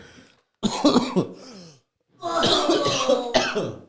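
Two bursts of harsh, loud coughing close to the microphone during a live podcast, separated by a short silence, with throat-clearing rasps mixed in.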